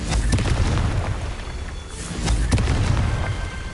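Confringo blasting spell explosions in Hogwarts Legacy, heavy rumbling booms with sharp bursts repeating over a dense, loud low roar.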